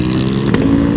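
A freshly rebuilt 2021 Yamaha R1M superbike engine idles steadily and close by, a loud continuous drone with a brief rise in the middle, no one speaking.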